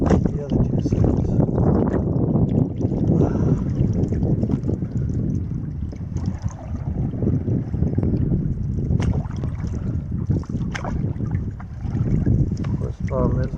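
Wind gusts across a Boundary Waters lake during a solo canoe trip, a strong, rumbling low roar buffeting the microphone throughout. Someone talks over it.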